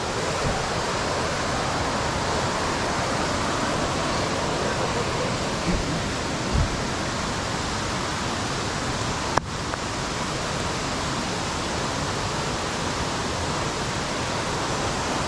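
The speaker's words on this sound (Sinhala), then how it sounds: "මෙතන පොඩි වතුර පාරක් ගලන් යනවා" A small mountain stream flows over rocks in the Sri Pada Peak Wilderness, a steady, close rushing of water throughout with a brief knock partway through and no talking.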